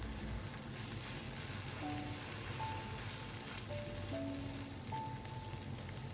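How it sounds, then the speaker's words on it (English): Shiitake mushrooms and red onion sizzle steadily in a hot wok during stir-frying for chicken chow mein, a constant crackling fry with faint scraping stirs and soft background music tones. "Then add the red onion, stir fry till softened and aromatic."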